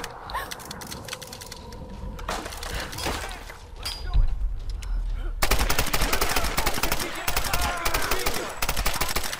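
Machine gun fire in the video game Tomb Raider: scattered shots and bursts at first, then dense, continuous rapid gunfire that turns louder and more sustained halfway through.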